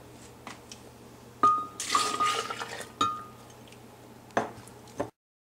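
Milk pours into crepe batter in short splashy bursts, with a clink of a cup or bowl, separate gushes of liquid and dripping, close up, against a low hum and no voices.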